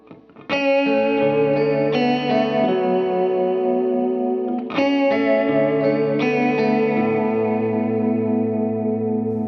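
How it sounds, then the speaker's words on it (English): Clean electric guitar chords strummed a few times and left to ring, with a wavering vibrato pulse from a Strymon Iridium-era worship pedalboard vibrato pedal shimmering through the sustained notes. "So here's what the vibrato sounds like on it."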